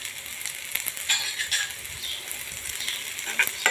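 Green peas frying in a pan with a browned, roasted filling for bread rolls: a steady close sizzle with scattered clinks and scrapes of stirring, and no voices.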